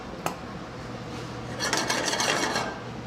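Knife cutting melon and tomato on a cutting board, a single sharp tap followed by a pause and then a burst of rapid rasping, chopping strokes, close and fairly loud.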